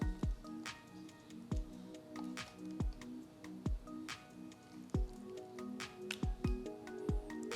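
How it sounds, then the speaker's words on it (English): A spatula scoops thick yogurt into a cheesecloth-lined bowl, giving soft wet squishes and dull taps at a slow irregular rhythm, quiet and close, with no one speaking. "now use something like a spatula to put the yogurt in the bowl"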